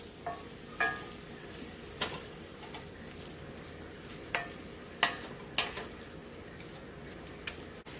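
Food being stirred in a pot for a one-pot Mexican shepherd's pie, with a spoon clinking and scraping against the pot at irregular intervals over a soft, steady sizzle, close by and with no talking.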